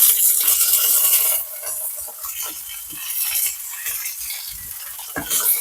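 Smoked pork butt sizzles in a pan as it is turned, a loud bright hiss that softens partway through and flares again with scraping at the end.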